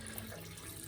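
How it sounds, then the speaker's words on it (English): Water being added into a cooking pot, a continuous gentle pouring rush for under a second, close and quiet, with no voices. "I'm just going to add in some water."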